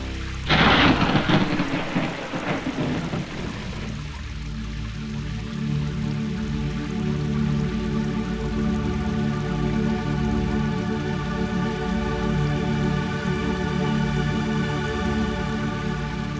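Heavy rain and thunder in a cartoon, opening with a loud thunder crash and rumble, then a steady close downpour pattering on surfaces throughout, with no talking.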